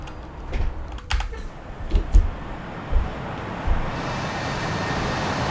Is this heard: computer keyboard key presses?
yes